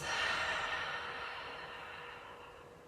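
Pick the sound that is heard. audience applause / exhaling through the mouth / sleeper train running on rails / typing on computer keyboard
exhaling through the mouth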